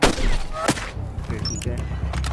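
A sniper rifle shot in the game Hitman Sniper: a sharp, loud crack right at the start with a short echoing tail, then quieter game sounds and low background noise.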